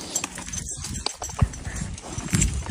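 Horse ridden bareback in open country, irregular hoof clip-clops with soft thuds, fairly close, over outdoor background noise.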